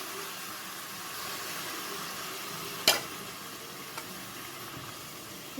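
Milk poured onto carrots frying in a pan gives a soft, even sizzling hiss, with one sharp knock or clatter partway through.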